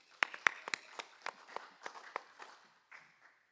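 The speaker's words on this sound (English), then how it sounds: "give Deli a round of applause" A church congregation at Sunday school gives a speaker a brief round of applause: sparse, separate claps from a small group, close and clear in a quiet room, thinning out and stopping within a few seconds.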